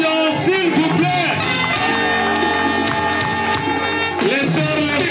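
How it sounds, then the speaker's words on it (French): Wedding guests at a traditional Gabonese ceremony cheer and clap under loud music, with singing voices carrying over a busy, constant crowd noise that stays strong throughout. "Sous vos acclamations, s'il vous plaît."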